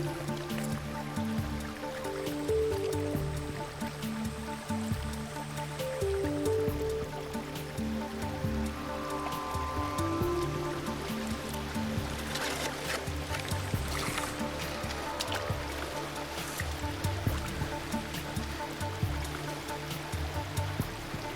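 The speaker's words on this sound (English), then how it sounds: "These pipes will still allow the current to flow through the pool" Water current runs steadily through pipes into a kingfisher pool, making a continuous close rushing and trickling flow with no voices.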